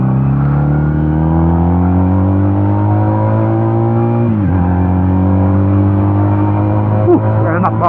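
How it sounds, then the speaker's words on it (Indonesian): A Benelli Patagonian Eagle 250 two-cylinder motorcycle engine revs loudly and close, its steady tone rising, then dipping sharply with a gear change before climbing again. "Benelli Patagonian Eagle gitu 250 2 silinder"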